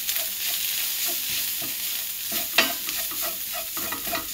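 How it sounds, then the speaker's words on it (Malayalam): Turmeric, pepper, garam masala, Kashmiri chilli and coriander powders sautéing in a pan, a steady soft sizzle with scattered scraping stirs and one sharper scrape near the middle, close and alone. "ഇനി ഇതെല്ലാം കൂടി നമുക്കൊന്ന് മൂപ്പിച്ചെടുക്കാം"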